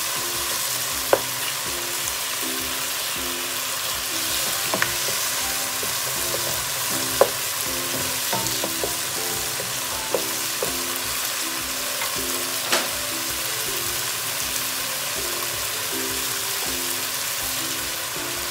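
Tomatoes frying in a pan for a Filipino mussel soup, a steady close sizzle throughout with a few sharp pops and crackles, no talking.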